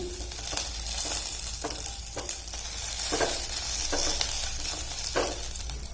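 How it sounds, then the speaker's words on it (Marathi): Green chillies roasting in a pan for a fresh green pea thecha, a steady close sizzle with repeated scraping stirs of a utensil against the pan at irregular intervals. "मिरच्या सुद्धा चांगल्या खमंग भाजून घ्यायच्या"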